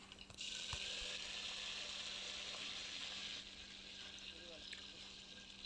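Curry leaves drop into hot oil for tomato rasam and set off a sharp, hissing sizzle that stays strong for a few seconds, then settles to a softer crackle.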